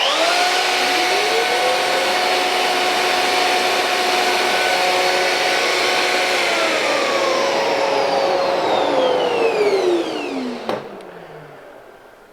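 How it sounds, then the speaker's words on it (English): A Festool CMS router and its vacuum extractor start together and run at a loud, steady whine for about ten seconds, then switch off and spin down with a falling pitch. "When I press the green button, the router will start and the vacuum will start."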